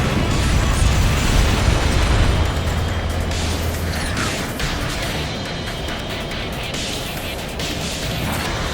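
A missile launch and explosion in the jet combat game Ace Combat Infinity: a loud, dense roar with a heavy low rumble at the start that settles into a sustained engine-like drone.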